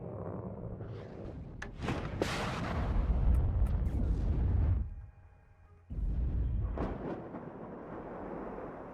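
Artillery firing high-explosive rounds in the war game WARNO, heavy booming blasts that roll on for seconds, a brief lull, then another rumbling volley, fairly distant and moderate in level.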